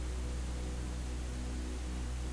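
Steady pink noise hisses evenly across the whole range, a soft, continuous, unchanging wash with a low hum underneath and no voices.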